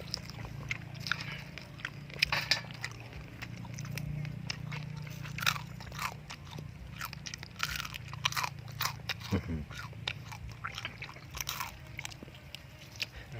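Large crunchy fried scorpions are chewed close to the mic, giving repeated loud crisp crunches and bites in an uneven rhythm that continues throughout.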